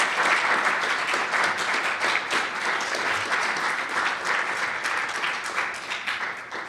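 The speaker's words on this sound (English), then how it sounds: "May we have a round of applause for our presenters and everyone." An audience claps for presenters and participants at a Bill of Rights read-along event, steady, full applause holding throughout at an even level with no voices on top.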